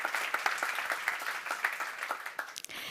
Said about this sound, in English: I think that's a big round of applause.